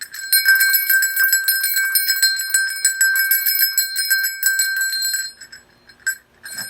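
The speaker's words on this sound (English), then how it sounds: "the sound of the bell" A small bell rings with a bright, bicycle-bell-like tone, fast and continuous for about five seconds, then fading to a few scattered faint dings, heard alone.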